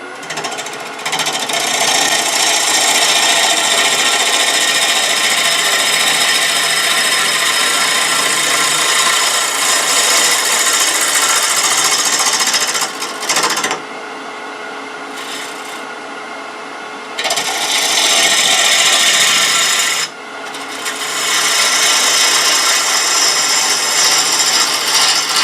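A wood lathe turning a potpourri bowl, producing a loud, continuous rasping, rubbing whir of tool on spinning wood that briefly drops away twice before resuming.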